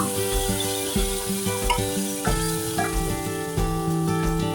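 Loud, steady crackling sizzle of dal poured into hot oil tempered with turmeric and asafoetida, with sharper spitting bursts scattered throughout and no talking.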